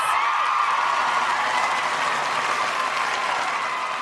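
Studio audience applause welcoming a guest on a talk show, a steady dense clapping that holds at full strength throughout, with no speech over it.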